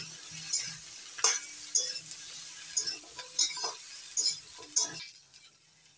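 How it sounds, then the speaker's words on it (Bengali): Moringa drumsticks being stirred in a pan with chili paste, giving soft scraping and light clinking taps at irregular intervals over a faint background, fairly quiet and alone. "সজনে ডাঁটাগুলোকে একটু নাড়াচাড়া করে নেব।"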